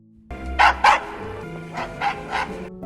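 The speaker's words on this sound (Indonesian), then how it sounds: "Poka tiba-tiba menggonggong dan terlihat panik berlari ke arah taman" A dog barks in an animated film, several sharp yelps and barks in quick bursts, fairly close and clear with music or other sound beneath.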